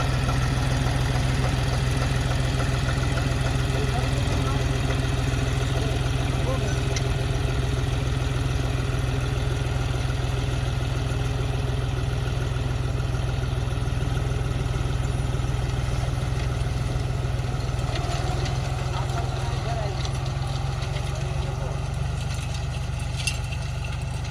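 A heavy tractor engine runs steadily at close range during cumin sowing, a continuous low rumble with no breaks.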